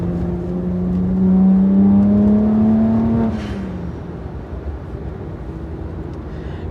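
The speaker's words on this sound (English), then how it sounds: "just driving around at 50 miles an hour and doing that little torque pull is kind of cool" BMW 1M pulling under torque at about 50 mph, engine note rising steadily as it accelerates, then easing off to a lower cruising hum, heard from inside the car with no talking.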